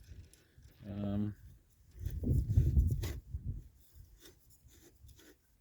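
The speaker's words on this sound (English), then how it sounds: "So I want to cut this one open, and let's see if it's got the same defect." Someone cuts open a Microgard oil filter by hand, producing faint, uneven rasping and scraping strokes in short bursts, with quiet pauses between them.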